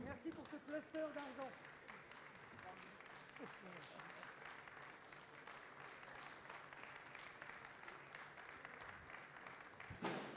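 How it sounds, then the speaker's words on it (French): Crowd applause at a ribbon award ceremony, a sustained, fairly faint patter of many hands clapping at an even pace, with voices murmuring and speaking at the start. "qu'on peut applaudir bien fort encore pour la photo"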